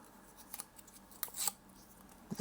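Wrapping being torn off an Apple Watch Ultra 3 box in Black Titanium, a few quiet crinkly rips and snips at close range, the loudest burst near the middle and another at the end, with no talking.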